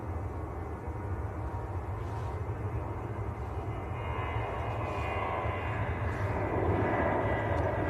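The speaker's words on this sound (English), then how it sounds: "this is Ryanair to Belfast" A Ryanair jet departing Manchester Airport for Belfast roars steadily at a distance, a broad continuous rumble that builds slightly louder toward the end.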